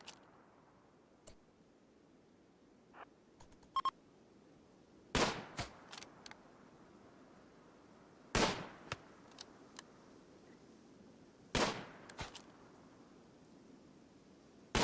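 Sparse gunshots in the colony game RimWorld, a few sharp isolated cracks and short bursts spaced seconds apart over a faint quiet background.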